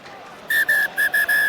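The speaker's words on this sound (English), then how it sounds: "Whistle goes." Referee's whistle at a rugby match between Ulster and another side, blown in five sharp, shrill blasts in quick succession, loud and clear over a quieter crowd hum.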